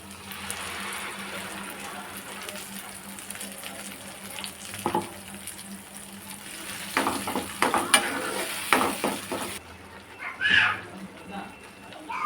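Garlic, chili flakes and pureed tomato frying and being stirred in a pan for a tiffin dish, a steady close sizzle with scraping stir strokes, plus a brief splash of running tap water near the end.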